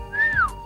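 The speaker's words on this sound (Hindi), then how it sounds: "लड़के पहले उसे देख के सीटी बजाते हैं।" A single rising-and-falling wolf whistle aimed at a girl, clear and close, standing alone without talk.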